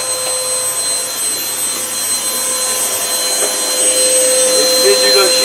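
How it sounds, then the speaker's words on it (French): A Boréal 47 sailboat motoring under engine power on a calm day at sea between South Georgia and Cape Town gives a steady, loud mechanical drone with a constant hum that holds evenly throughout. "navigation au moteur."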